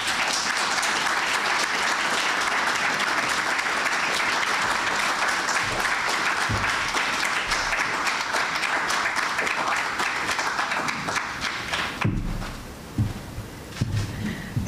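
Sustained, loud applause from the audience at an investiture ceremony for a global president of an arbitrators' institute; dense clapping continues for most of the stretch, then thins and fades toward the end.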